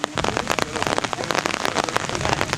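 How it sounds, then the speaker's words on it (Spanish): Heavy rain falls near the ruins of ancient Olympia in Greece, pattering densely and loudly on a nearby surface with a steady spray of close drops and no talk. "Empieza a llover bien."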